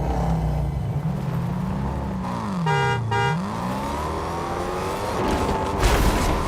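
A car in the Fortnite video game roars along, its engine revving up and down with a sweeping pitch dip as it passes, steady and fairly loud, with brief synthetic game tones mixed in.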